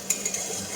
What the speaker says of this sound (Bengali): পটলের সঙ্গে মশলাগুলো ভালো করে একটু কষিয়ে নেব।